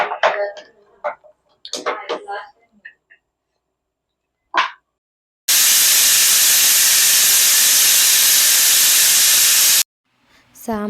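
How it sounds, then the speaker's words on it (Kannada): A pressure cooker whistles steam while chicken sambar cooks, giving one long, loud, steady hissing blast of about four seconds after a few brief clatters and talk, then falling silent. "ಇವಾಗ ನಾನು ಲಿಡ್ ಕ್ಲೋಸ್ ಮಾಡಿ ಒಂದ್ 4 ವಿಷಲ್ ಹಾಕಿಸ್ಕೊತೀನಿ."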